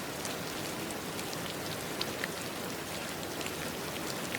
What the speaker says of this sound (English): The rain will stay with you all through the night.